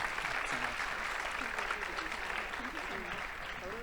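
A conference audience at the UIST 2024 closing keynote gives a steady round of applause, dense and even throughout at moderate distance, with no talk over it.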